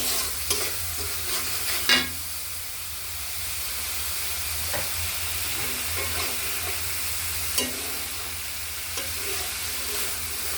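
Spice masala for a fish curry frying and being stirred in a pan, a steady sizzle with scattered scraping stirs and a couple of sharper clinks, no voices.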